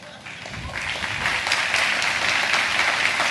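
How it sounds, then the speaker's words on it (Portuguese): An audience at a church gathering breaks into applause that swells and holds as warm, steady clapping, fairly close and loud, with no voices over it. "Quem chega lá sabe como é importante esses aplausos."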